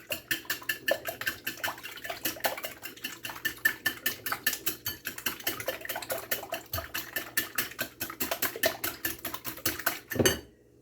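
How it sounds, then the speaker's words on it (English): Eggs being beaten in a pan with a utensil for a chicken quiche, giving a fast, steady run of close metallic clinks and scrapes against the pan, with no talking. "Now we are going to do is we are going to beat the eggs in here."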